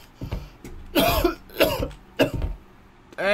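A video game character's run of harsh, raspy coughs in quick bursts, four or five in a row, close and loud, ending with a strained throaty noise.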